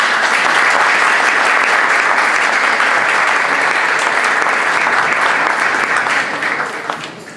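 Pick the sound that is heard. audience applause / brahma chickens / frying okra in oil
audience applause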